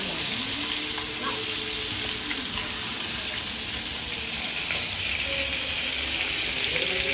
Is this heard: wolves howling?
no